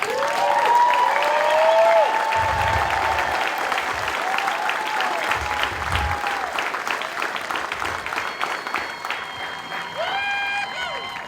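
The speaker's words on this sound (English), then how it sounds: "Let's give them a round of applause." A large audience at an Air Force basic military training graduation ceremony gives sustained, full applause for 573 newly graduated airmen. The clapping stays steady and dense, with some cheering mixed in.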